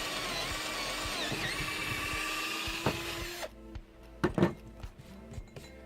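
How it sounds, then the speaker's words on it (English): Power drill boring into a homemade reel spooler, a steady whining buzz for about three seconds, then a clunk and a few short bumps and knocks as the drill stops, close by and with no talking. "now we're going to use our drill"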